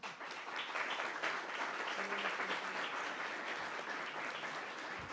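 A book presentation audience applauds steadily for several seconds, a dense even wash of clapping with no voices on top.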